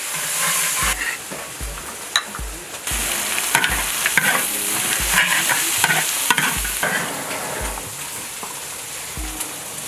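Duck stir-fried in a wok gives a loud, continuous sizzle, punctuated by regular scraping and clanking strokes of the spatula against the metal.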